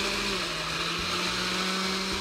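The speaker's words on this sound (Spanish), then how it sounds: "Vamos a licuar." A kitchen blender whirs at high speed, blending cream and milk for Salvadoran quesadillas, a loud continuous motor whine with no talking.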